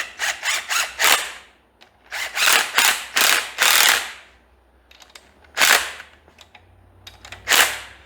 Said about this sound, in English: All rod bolts are tightened to 26 feet-pounds.